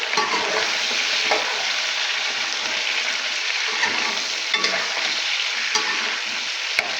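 Chicken pieces frying in hot oil in a pan, a dense continuous sizzle with occasional stirring clicks and scrapes up close, no voices.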